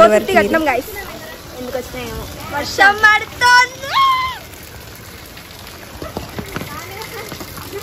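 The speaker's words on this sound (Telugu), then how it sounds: "అప్పుడే ఫుల్ వర్షం స్టార్ట్ అయింది" Steady hiss of heavy rain runs throughout, with people talking loudly over it, a few voices rising and falling near the middle.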